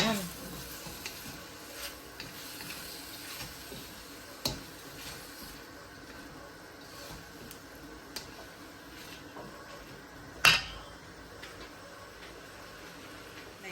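Chicken pieces sizzling and being stirred in a pan for pancit bihon, a steady low frying hiss with scattered scraping clicks and one sharper clatter near the end, close and moderately quiet.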